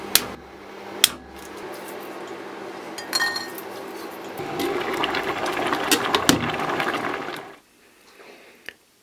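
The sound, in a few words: cracking walnuts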